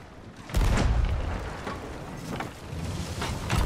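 Heavy cannon shot in a video game firing at about half a second, a loud deep boom with a long rumbling tail, followed by further dull blasts amid chaotic game noise.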